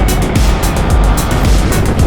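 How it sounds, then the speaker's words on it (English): A Hero Xpulse 200 4V motorcycle engine runs at high revs on an incline, a loud, continuous drone with rushing wind noise, heard up close without talk. "higher in the revs, the engine is also really loud, and there are also a lot of vibes"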